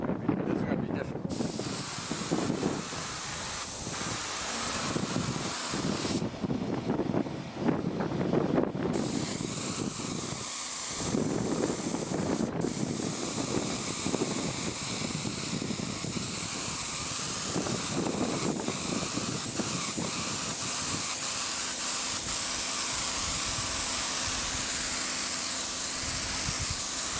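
Gusty wind blows on an open, windy site, a loud rushing hiss that surges and drops irregularly for nearly half a minute, with brief quiet gaps between gusts and a few faint words spoken.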